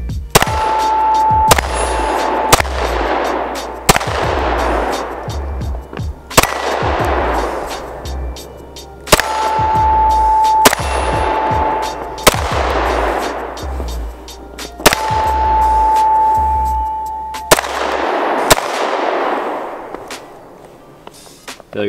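Agency Arms Syndicate S2 Compact Kit firearm fires a steady series of sharp, loud gunshots, roughly a dozen evenly paced cracks, each ringing off in a short echoing decay, with no voices between them.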